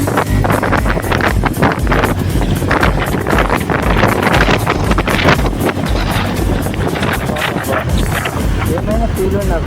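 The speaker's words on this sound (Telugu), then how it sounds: "ఇప్పుడు కొంచెం గాలి తగులుతుంది బాడీకి" Loud wind buffeting a microphone while riding a motorbike through traffic in Hyderabad, a constant rushing roar with someone talking over it.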